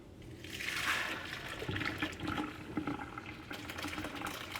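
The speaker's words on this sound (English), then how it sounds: "We then use one of these to dump the water out, but keep the pasta in there." Water from a pot of boiled pasta is dumped through a strainer, a rushing, splashing pour that swells quickly and then continues as a steady gushing stream nearby, without talk.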